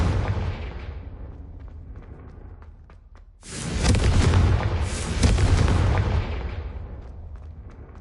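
A Confringo fire spell explodes in the video game Hogwarts Legacy on PS5: a sudden loud broadband blast a few seconds in, rumbling and crackling for several seconds after a quieter stretch of game ambience, with no talking.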